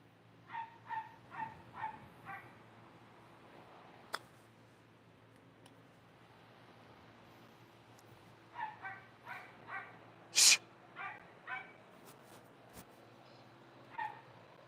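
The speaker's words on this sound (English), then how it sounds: "I hear my neighbor out there, Marva, trying to get her dog to shut up for me" A neighbor's dog barking outdoors in a backyard, bursts of four or five sharp barks with pauses between them, moderately distant, plus a brief sharp click partway through.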